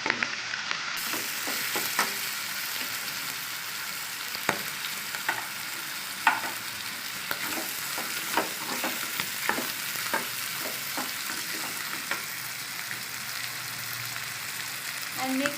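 Ingredients for Telugu gongura boti frying in oil in a pan, a steady dense sizzle with frequent sharp crackles and stirring clinks, close and continuous throughout.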